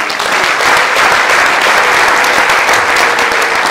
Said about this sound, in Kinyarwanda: Tuyikomera amashyi menshi.